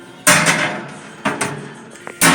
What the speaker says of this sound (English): when I pull the plates out